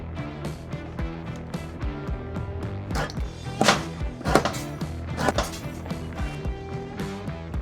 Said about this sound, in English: Let's go chop some rods and get to welding.